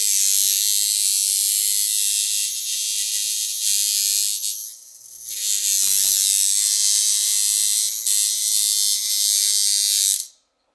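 A power-shader tattoo machine made for big needles buzzes steadily and loudly up close for about ten seconds, dipping briefly midway before stopping.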